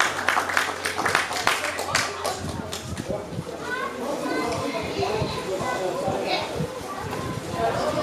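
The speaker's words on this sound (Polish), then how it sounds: "Wielkie brawa, tak jest." A crowd at a Polish harvest festival (dożynki) applauds a village delegation from Gałęzów Kolonia Pierwsza. A burst of clapping in the first few seconds gives way to outdoor crowd chatter and children's voices.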